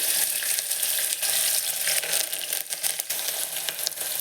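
Mustard seeds, cumin, onions and curry leaves frying on a low flame for a dried green gram curry produce a steady, close, bright sizzle with faint crackles throughout, without any talking.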